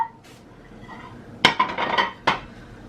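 Ceramic dishes and serving platters clink and clatter as a kitchen cupboard is cleared, a sharp bright crash followed by a cluster of rattling knocks and one more clink, close and fairly loud with no talking.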